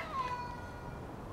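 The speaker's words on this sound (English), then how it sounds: "It's a cat!" A fat cat outdoors near a museum in Japan gives a single short, faint meow, heard alone against quiet background noise.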